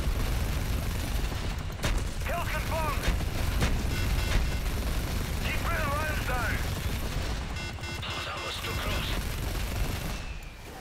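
Gunfire from the video game Modern Warfare 3, a steady, continuous wash of rapid shots and bursts running through the whole stretch at close range.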